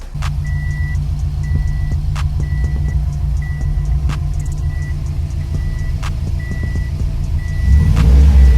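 A 2007 Subaru WRX engine idles with a deep, steady exhaust rumble, revving up slightly at the end, with faint periodic beeps in the background.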